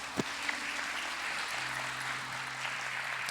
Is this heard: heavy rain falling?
no